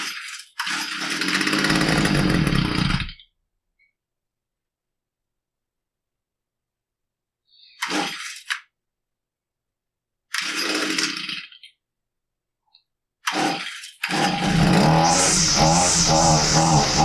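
A Stihl FS45 strimmer fitted with an aftermarket carburetor roars to life in loud, buzzing bursts that cut out into silence between tries, then catches again near the end and runs on.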